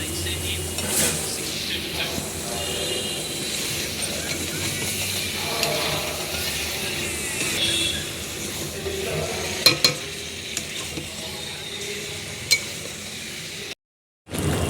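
Goat liver goes into a pan of fried spice masala where the oil has separated, raising a continuous sizzle and hiss with stirring scrapes and occasional light clinks, nearby and steady throughout, briefly cut by a short silence near the end.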